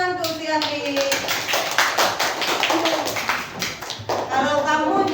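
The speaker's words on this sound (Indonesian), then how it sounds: "Tepuk tangan untuk si Andi." Children in a primary school classroom clap together for a classmate, a brisk patter of small hands with rhythmic bursts, while young voices chatter and call out underneath the clapping.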